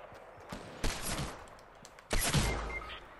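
Gunfire in the Fortnite battle royale game, two loud bursts of rapid shots about a second apart over low game ambience, with no talk.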